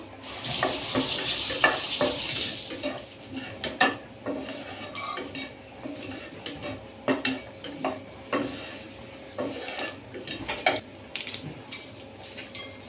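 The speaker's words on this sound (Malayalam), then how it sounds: "കടുക് പൊട്ടി തുടങ്ങിയിട്ടുണ്ട് നമുക്ക് നമ്മുടെ വറ്റമുളകിലേക്ക് ഇട്ട് കൊടുക്കാം" Mustard seeds crackle in hot oil in a pan as dried red chillies are added, giving sporadic sharp pops and sizzling along with the clatter of a utensil stirring against the pan.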